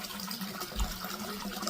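Purification water pours steadily from the mouth of a stone dragon fountain at a shrine in Nikko, Japan, a constant close splashing gush with no talking.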